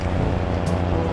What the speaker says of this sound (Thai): หรือว่าเสียงรถมันดังแค่นี้